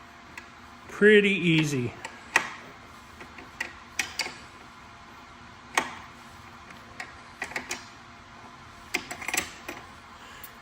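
A wrench loosens an 18 mm bolt to take the wheel off a Rattan LF 750 Pro scooter, giving a series of sharp, close ratcheting clicks and ticks spread across the clip, with a person talking briefly at the start.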